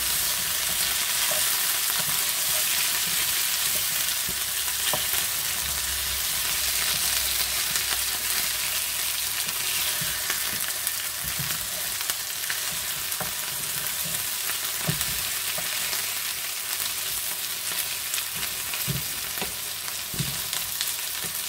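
Rabbit pieces frying in a little oil in a pan, a steady dense sizzle and crackle throughout with occasional louder pops and stirring knocks, close up and with no voices.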